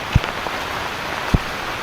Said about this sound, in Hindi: पूरा बारिश ही बारिश, उधर जाओ बारिश, उधर जाओ बारिश।